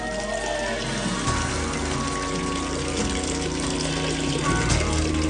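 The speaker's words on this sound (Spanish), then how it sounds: "El agua fluye a lo largo de este conducto durante 1 kilómetro hasta llegar al castillo." Water rushing continuously through an ancient artificial underground channel, a dense steady gushing flow that fills the space evenly from start to finish with no talk.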